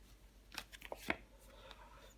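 Tarot cards handled on a table as one card is laid over another, giving a few soft, quiet slides and flicks clustered together before fading into near silence.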